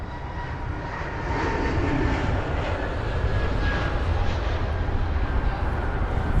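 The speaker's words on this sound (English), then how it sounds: "Here it is, the Etihad 380 though. This should be the King of the Skies." Etihad Airbus A380 departing London Heathrow, a loud sustained jet engine roar that builds after the first second and holds steady, heard from a distance outdoors.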